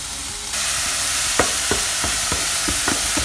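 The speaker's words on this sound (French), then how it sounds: "on va venir mettre nos lardons" Bacon lardons hit a smoking-hot dry pan with no added fat and burst into a loud, steady sizzle, punctuated by sharp scraping taps of a utensil stirring them every fraction of a second.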